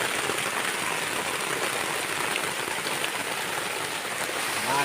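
Heavy rain pours steadily over a campsite, a dense continuous hiss of drops on surfaces that stays loud and even throughout with no voices.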